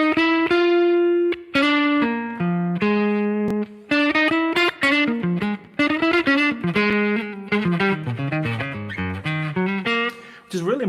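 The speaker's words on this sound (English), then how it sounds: "More of a jazz lick" Electric guitar plays a jazz-flavoured lick built on chromatic runs between chord tones, a bright run of clear sustained notes and quick phrases lasting the whole stretch, loud and close with no talking.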